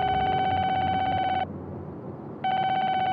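A telephone rings in a Hindi-dubbed South Indian horror film, sounding a loud, clean electronic ring, then a pause of about a second, then a second ring. No one speaks over it.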